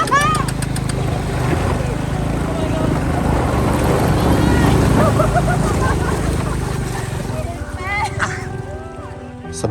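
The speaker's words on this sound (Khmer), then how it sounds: "ពួកយើងបានជួលម៉ូតូពីខាងសហគមន៍ដើម្បីជិះ" Rented motorbikes ride a rough track toward a waterfall, a steady engine drone running loud throughout beneath music and a voice talking over it.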